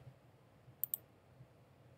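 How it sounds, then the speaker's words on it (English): Two quick, faint computer mouse clicks close together over a quiet background while shapes are drawn in SketchUp. "I'm clicking once and letting go of my mouse"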